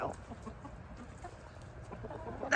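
Soft, scattered clucking from a few chickens, quiet and somewhat distant over low background noise.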